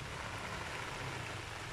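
Heavy rain pours down steadily on a vegetable plot where curly lettuce is being transplanted, a dense, even hiss of drops close by with no pauses.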